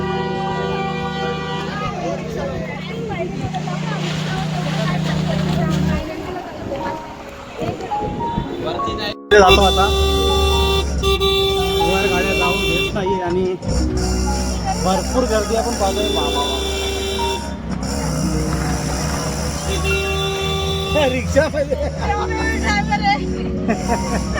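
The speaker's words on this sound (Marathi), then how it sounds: "पायथा मंदिरात गर्दी बघ किती आहे" Busy crowd noise at a temple at the foot of the hill on the way to Ekvira Aai, with a steady babble of many voices, vehicle hum and music-like tones, and a nearby voice talking over it.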